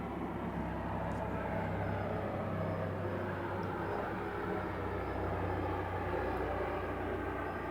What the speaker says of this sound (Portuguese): só um avião, né? Helicóptero também.